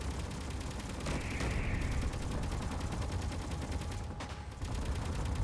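Rapid gunfire in the video game Space Engineers, a continuous dense rattle of automatic shots at steady volume throughout, with no pauses and no talk.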